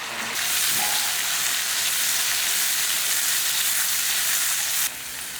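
Loud, steady sizzling and crackling of three tomatoes frying in hot oil for an anchovy and mango fish curry, close up and continuous, fading slightly near the end.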